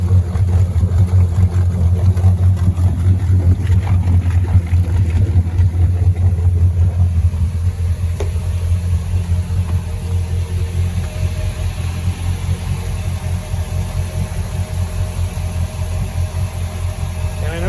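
A steady, throbbing inboard engine idle on a 2018 Crownline 264 CR boat rumbles low and close, holding an even rhythm throughout without revving.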